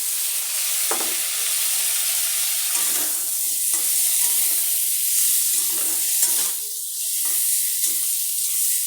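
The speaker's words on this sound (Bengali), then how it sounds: "এখন টমেটো আর কাঁচা লঙ্কা ছেড়ে দিচ্ছি" Tomatoes and green chillies fry loudly in a hot pan for an egg curry, a dense continuous sizzle and hiss with occasional stirring scrapes, close and without speech.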